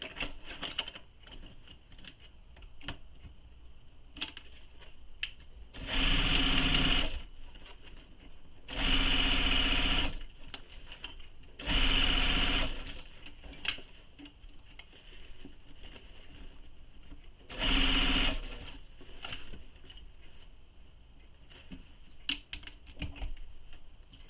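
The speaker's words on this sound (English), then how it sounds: "now we're going to sew this with the seam allowance given in the pattern." A sewing machine stitches a bag seam in four separate bursts of rapid, even whirring, each a couple of seconds long, with quieter handling rustle between runs.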